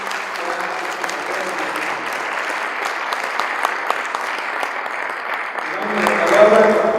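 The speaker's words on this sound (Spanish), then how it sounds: "recibámoslos con un aplauso" Sustained audience applause at a national congress panel on rule of law and public security, welcoming a security specialist; steady, dense clapping throughout that swells slightly near the end, with some faint voices mixed in.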